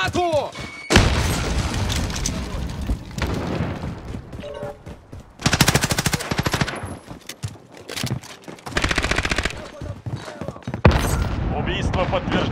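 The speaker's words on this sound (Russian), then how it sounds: "Бросаю гранату!" A grenade explosion in Call of Duty: Modern Warfare multiplayer, heard as heavy booms and loud bursts of gunfire layered with battlefield noise and shouted voices.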